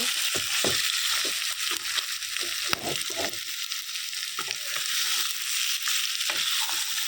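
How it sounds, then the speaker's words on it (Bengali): Chicken pieces stir-fried in oil in a pan for a country-chicken curry, with a steady bright sizzle broken by repeated scraping and stirring strokes throughout, close and fairly loud with no talking. "এই যে মাংস দিয়ে দিয়ে এখন সুন্দর করে কষিয়ে নেব"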